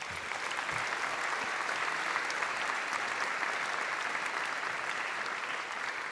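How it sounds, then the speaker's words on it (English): Steady, dense applause from a concert audience at a fall debut concert in La Canada, sustained at even strength throughout with no talk over it. "Give them a round of applause, please."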